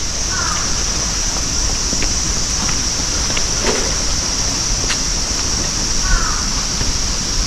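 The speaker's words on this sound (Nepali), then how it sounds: "कागहरू कराइराख्नु भएको छ" Crows caw in a breezy bamboo grove on a hot sunny day: two brief distant calls, near the start and near the end, over a constant airy rush.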